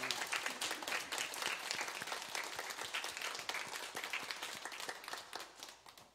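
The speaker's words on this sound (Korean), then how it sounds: "격려의 박수, 감사의 박수 하겠습니다" Congregation applauding the church choir at a Sunday worship service, a dense, steady wash of many hands clapping together that carries on for several seconds before thinning and fading toward the end.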